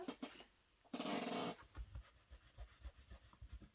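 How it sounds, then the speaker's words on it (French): A pencil eraser rubs out small guide marks on paper: a couple of brief scrubbing passes, the main one lasting about half a second, close and soft in an otherwise quiet space. "Ensuite, on va gommer nos petits repères."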